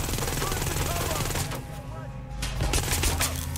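Gunfire in the video game Watch Dogs Legion, Bloodline DLC: rapid, dense bursts of shots with a brief lull in the middle, loud and continuous over a rumbling backdrop, with a voice speaking amid the shooting.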